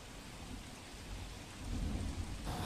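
Steady rain pours down over Surat with a low rumbling undertone, growing heavier and louder toward the end.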